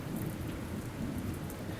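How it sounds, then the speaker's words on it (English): Steady rain mixed with a low rolling rumble of thunder in the video game Repeat, a dense, constant outdoor wash with no voices. "At least now we can get inside and out from this rain."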